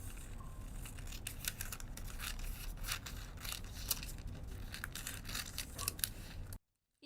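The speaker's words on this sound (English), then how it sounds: "I want to cut these pieces" Scissors snip through dress pattern pieces in a quiet room, a steady run of short crisp cuts and rustling paper that ends abruptly, with no talk.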